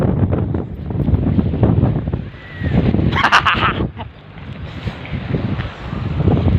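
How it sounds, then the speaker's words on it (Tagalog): Gusty coastal wind in Mariveles, Bataan buffets the microphone in rumbling bursts that rise and fall, with a brief brighter rustle midway. "Sarap ng hangin dito"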